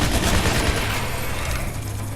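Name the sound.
heavy machine gun firing in video game Shadow Warrior 2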